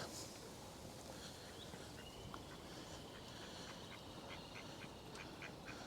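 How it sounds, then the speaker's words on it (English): Ducks quack repeatedly and fairly faintly over steady outdoor ambience on a street-side spot in Grimsby, with short calls scattered through the stretch. "Oh, we have some ducks coming towards."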